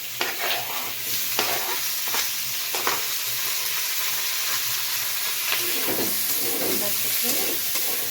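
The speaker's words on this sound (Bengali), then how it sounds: "চিকেনটা হালকা ভাজা হয়ে আসবে" Small chicken pieces fry with garlic and onion in a pan, giving a steady loud sizzle with intermittent scraping stirs throughout, and no voices.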